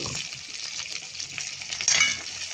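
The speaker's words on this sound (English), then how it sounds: "So this is what I mean by browning your meat. Browning your onion and carry it out. This is browning it." Meat and onion browning in a pot for a mutton tail stew, a steady soft sizzle with light stirring scrapes throughout, swelling briefly louder near the end.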